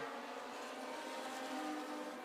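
Race cars roar on the final lap of a combined Young Lions, Semi-Pro and Chargers feature at Cordele Motor Speedway, a steady, loud, continuous engine drone with no break.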